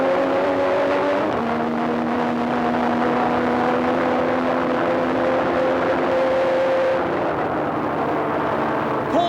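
A Formula 1 car drives onto the pit straight at Paul Ricard, its engine a loud, sustained, high-pitched whine that shifts pitch as it changes gear and accelerates.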